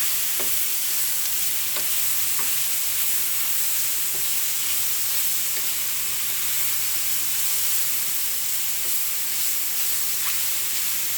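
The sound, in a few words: vegetables charring and sizzling in a pan for vegan fajitas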